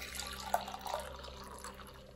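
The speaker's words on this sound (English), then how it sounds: "so I pour my heated almond milk" Heated almond milk being poured into a container, a faint, brief liquid trickle and splash with drip-like sounds over low background hum, no talking.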